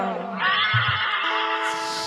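A loud horse whinny rings out during a Maithili-language nautanki folk stage show in Bihar, a long quavering neigh with a deep thud partway through, heard close and clear.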